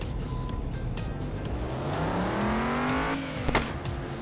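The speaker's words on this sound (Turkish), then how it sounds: "Park yerinden çıkarıyoruz bu arabayı arkadaşlar" A car in the Car Parking Multiplayer driving game pulls out of a parking lot, its engine droning loud and steady, then rising in pitch as it accelerates away.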